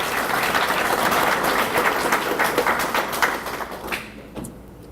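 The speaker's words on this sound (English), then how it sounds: "Give Taylor a round of applause, please." A banquet audience claps for a scholarship honoree at a memorial dinner. The applause is full and dense for around four seconds, then tapers into a few scattered claps.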